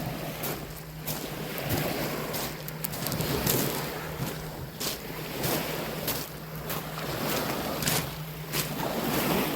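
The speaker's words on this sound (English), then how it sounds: "the waves hitting the beach" Waves wash steadily onto a rocky beach at Kotiranta on Malcolm Island, a broad continuous surging hiss with repeated swells and wind rumble against the microphone, with no voices.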